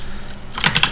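Keys clatter on a computer keyboard in a quick burst of several close taps as a command is entered into a terminal, coming after a short quiet lead-in with no voices.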